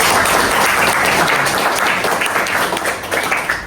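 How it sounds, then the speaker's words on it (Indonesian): Audience applause in a classroom lecture setting, a dense steady wash of many hands clapping throughout, loud and close, with no talk over it. "Tepuk tangan dulu teman-teman."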